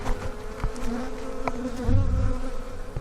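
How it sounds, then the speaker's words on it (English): Honey bees, likely robber bees, buzz steadily around a dead, winter-killed beehive infested with hive beetles, a dense close drone with a few louder passes of single bees nearby. "All these bees here I think are robbers."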